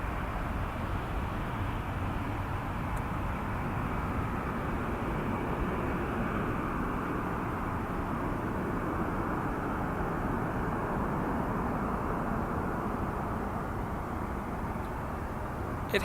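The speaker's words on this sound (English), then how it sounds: "This is headed to Quebec City on a 321." Airbus A321 jet at Toronto Pearson airport, bound for Quebec City, its engines a steady broad distant roar that holds evenly throughout without pause, heard alone.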